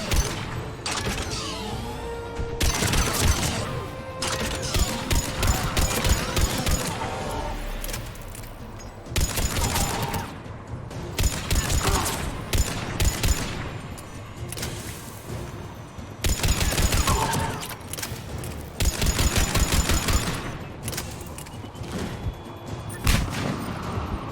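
Heavy turret fire in a Mass Effect 3 combat scene, long bursts of loud rapid shots that stop and start through the whole stretch, with booms and other gunfire mixed in and no speech.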